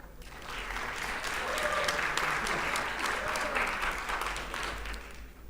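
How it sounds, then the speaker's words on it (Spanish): An audience claps in response to a vote on a question, a full, sustained round of applause that swells and then eases off over several seconds, with faint crowd murmur beneath the dense clatter of hands. "Primera pregunta, aplausos."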